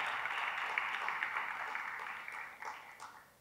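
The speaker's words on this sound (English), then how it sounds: "another round of applause" Audience applause at an International Women's Day lecture, a steady broadband wash of clapping that holds for a few seconds before thinning out toward the end, moderately loud in a hall.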